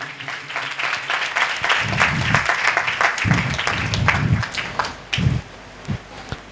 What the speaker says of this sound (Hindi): जोरदार ताली बजाएं इनके लिए भी।